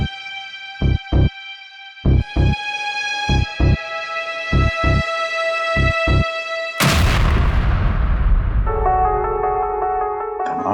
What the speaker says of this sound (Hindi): धमाका लैपटॉप में हुआ